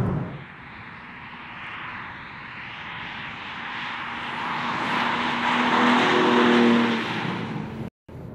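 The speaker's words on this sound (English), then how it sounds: "The engine sounds great on the inside." Cabin sound of a 2021 BMW M3 G80 driving, a steady broadband engine and road roar that swells louder toward the end before a brief cut, with no talking.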